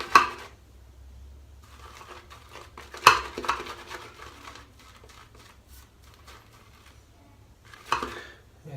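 Shaving soap lather being whipped in a bowl with a brush, giving soft irregular clinks, taps and wet scraping, with a couple of louder knocks against the bowl.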